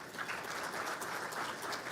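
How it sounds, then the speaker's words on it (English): An audience at the DOE Solar Decathlon applauds the mentors, a soft, even patter of many hands clapping throughout, somewhat distant and without voices. "so let's give them a round of applause as well."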